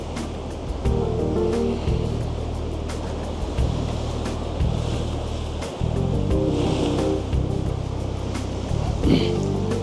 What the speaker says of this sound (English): I think the tide's on the turn at the minute, so it's just a bit choppy